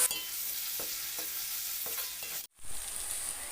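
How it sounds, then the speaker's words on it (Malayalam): Leftover biryani rice with chilli sauce is stirred in a hot pan, a continuous sizzle broken by repeated scraping strokes, with a brief cut to silence before the frying resumes. "കുറച്ച് ചില്ലി സോസ് ഞാൻ ഒഴിച്ചു കൊടുക്കുന്നുണ്ട് ഇനി അത് നന്നായിട്ട് നമുക്ക് മിക്സ് ചെയ്തെടുക്കാം"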